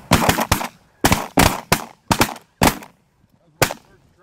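Shotgun blasts ring out during a goose hunt, about seven sharp, loud reports in quick irregular bursts with brief gaps, each decaying fast into quiet outdoor air.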